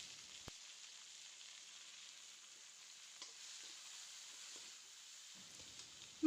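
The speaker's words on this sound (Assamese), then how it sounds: "মই এতিয়া কাটি লোৱা বিলাহীখিনি ভালদৰে ভাজি ল'ম" Chopped tomatoes fry in hot oil in a pan, cooked in a rupchanda fish recipe, giving a steady, close sizzling hiss with a faint tick and a short clatter at the very end; no voices.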